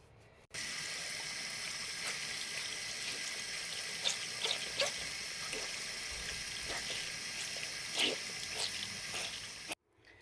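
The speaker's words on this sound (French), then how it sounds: "vous mettez une dose de savon sur le Beauty Blender. Vous mettez un tout petit peu d'eau. Hop. Vous pressez bien, vous frottez bien." Running water from a tap while a Beauty Blender makeup sponge is washed with soap, a steady rushing stream with small squelching pulses from squeezing and rubbing, close by, stopping abruptly at the end.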